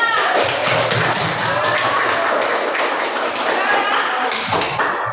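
A classroom of students claps for a group's answer during a lesson, a steady, close, dense patter of hands lasting the whole stretch, with voices mixed in underneath.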